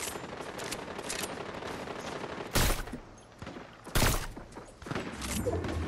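Fortnite turret and pump shotgun fire, with a continuous rattle of automatic shots broken by two sharp, loud blasts a little over a second apart, all heard close and without talking.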